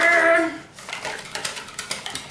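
Wet cupcake ingredients whisked together in a bowl: after a brief tonal electronic beep, rapid rhythmic clinks and scrapes of a whisk against the bowl repeat steadily, close and moderately loud.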